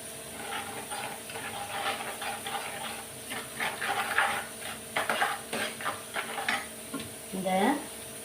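Keerai greens sauté in a pan, with soft, steady sizzling and frying under repeated stirring scrapes and light clinks of a spoon against the pan. No voices are heard.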